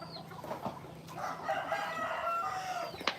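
A chicken on a farm crows and clucks in a short, close burst with a rising call, over light background noise.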